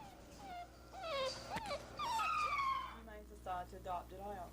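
Dogs confined in a crowded pound whine, yelp and howl in overlapping, wavering cries, with a steady hum underneath and no one speaking.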